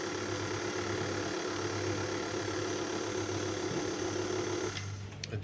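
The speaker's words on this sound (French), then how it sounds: "S'il y a de la meringue qui est prise un petit peu dans le fouet, j'augmente un petit peu la vitesse." A stand mixer whisks meringue for a dacquoise biscuit at a slightly raised speed. It gives a steady, loud mechanical whir with a low hum throughout, then a few clicks as it winds down near the end.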